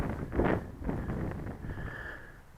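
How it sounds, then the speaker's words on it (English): Wind gusts buffet the microphone up high in Richmond Park, a moderate low rush that swells early and fades toward the end, with no speech. "it's very windy up here"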